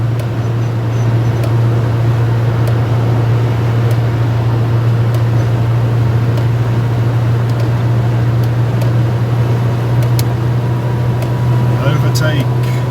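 A British Leyland Austin Allegro engine runs on a test drive after parts were replaced, giving a loud, steady low drone with a constant hum and road rumble, unchanging throughout and heard without talk.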